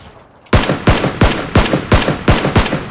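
Rapid automatic gunfire in PUBG Battlegrounds, a loud, close burst of about eight evenly spaced shots after a brief quiet start, with no talk over it.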